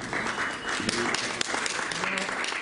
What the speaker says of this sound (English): wonderful round of applause for Catalina Cruz.